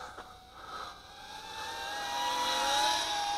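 An Eachine Racer 180 tilt-rotor FPV drone speeding up in flight, its whirring motor whine rising steadily in pitch and loudness, a continuous buzzing tone that builds toward the end.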